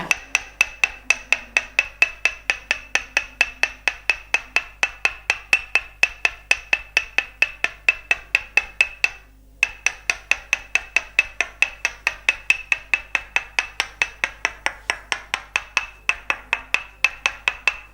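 Wooden hammer strikes a wooden peg in a rapid, steady stream of sharp taps during a northern Thai tok sen massage working over the muscles, with one brief pause midway and no talking.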